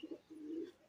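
Pigeons at a pigeon farm cooing softly, a pair of short low coos followed by one longer drawn-out coo, faint and close, with no talking.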